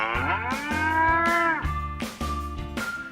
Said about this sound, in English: That's how a cow sounds like.